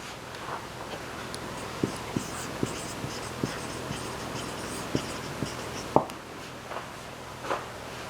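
A teacher writes Devanagari script on a board, producing a series of faint, irregular taps and short scratchy strokes in a quiet room, with one sharper knock near the middle.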